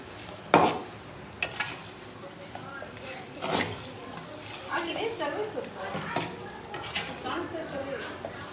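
Pepper chicken fries in a pan with curry leaves, giving a soft sizzle broken by scraping stirs and light clinks of the utensil against the pan, heard close.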